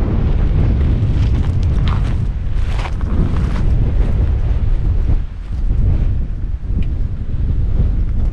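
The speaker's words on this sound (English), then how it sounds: "Man, is it windy." Strong wind buffets the microphone in the North Dakota Badlands, a loud continuous roar with gusty surges and a couple of brief lulls.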